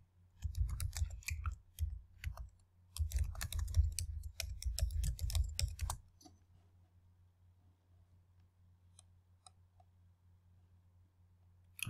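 Rapid clicking keystrokes on a computer keyboard come in two close, quiet bursts, followed by a few scattered taps and near silence.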